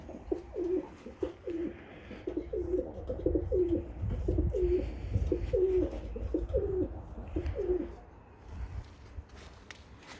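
Pigeons or doves coo outdoors in repeated soft, low rolling phrases, fairly close, over a rustling background with faint movement sounds.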